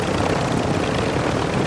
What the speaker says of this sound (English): He's definitely come for this chopper.